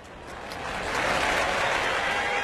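A crowd cheers and applauds in a baseball stadium during a professional Japanese game, Chiba Lotte against Orix, a dense roar of clapping that swells louder after the first second and then holds steady.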